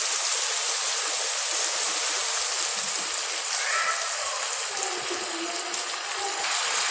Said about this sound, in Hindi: अब इसमें थोड़ा सा पानी शामिल करेंगे